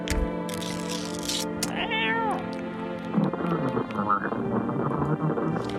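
Repeated cat meows from a video game, some drawn out and whiny, over a steady droning background with small clicks and knocks.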